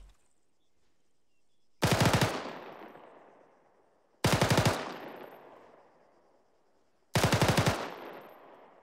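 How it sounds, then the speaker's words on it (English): A SAW light machine gun fires three separate short bursts at a sustained rate, each loud burst a few rounds long and trailing off in echo before the next comes about two to three seconds later. "A sustained rate of fire with a machine gun consists of a 3 to 5 round burst every 2 to 3 seconds."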